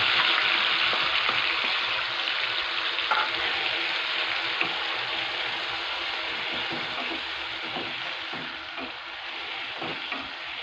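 Coriander gravy sizzling and frying in a pan over cumin tempering for a potato curry, a steady loud hiss with scraping stir sounds throughout, no talking.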